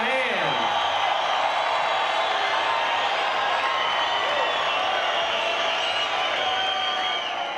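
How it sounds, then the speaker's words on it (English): A large arena crowd at a UFC event in Lake Charles, Louisiana applauds and cheers steadily, a dense wash of clapping and whoops that holds loud throughout with no pause. "Give yourselves a hand."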